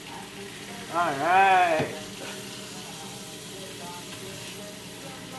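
Salmon fillet frying in a pan just after being flipped, giving a steady, moderate sizzle that continues throughout, with a short spoken word near the start.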